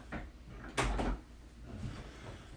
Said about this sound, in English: I'm going to close the door to my room here.